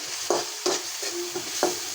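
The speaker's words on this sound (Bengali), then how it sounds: "পেঁয়াজটা আমি হালকা একটু ভাজা দিয়ে নেবো, বেশি ভাজবো না।" Chopped onions fry lightly with salt and turmeric in a pan: a continuous sizzle with rhythmic stirring strokes scraping about every third of a second, close and alone.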